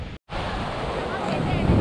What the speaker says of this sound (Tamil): கடல் அலைகளை பார்த்துட்டு ஒரு ஸ்மால் வாக்.